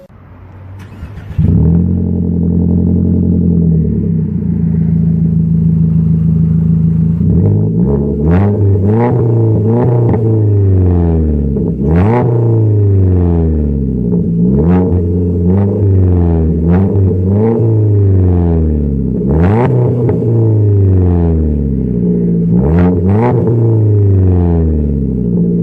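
A car idling and then revving repeatedly through a replaced, quieter muffler, deep rumbling engine tone rising and falling in sharp blips, close and loud throughout with no talk.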